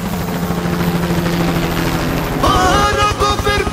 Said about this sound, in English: there is a helicopter on top of us. Helicopter! Helicopter!